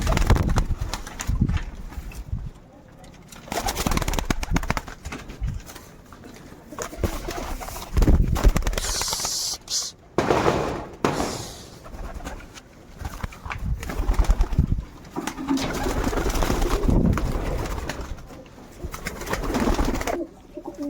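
Pet pigeons coo close by in soft, repeated throaty calls, with rustling and wing or handling noises from a loft mixed in throughout.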